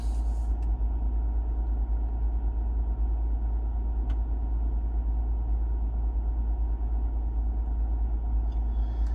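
An INEOS Grenadier engine idling at slightly raised RPM during an oil-level check, a steady low rumble and hum heard close up, with a few faint clicks and no speech.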